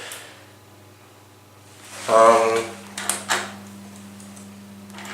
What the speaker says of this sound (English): Ooh, door close button works, even though you don't normally expect it to work in a Schindler.